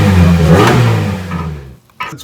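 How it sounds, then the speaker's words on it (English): A Toyota Corolla engine with a broken exhaust, cracked just ahead of the muffler flange, runs loud and rough with a revving roar that fades, then briefly picks up again. "Today the Corolla sounds a little bit off."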